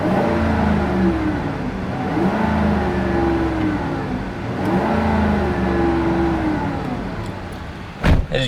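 A 2008 Lincoln Navigator engine revs up and falls back several times, swelling and easing in repeated waves of close, loud rumble, ending with a sharp knock.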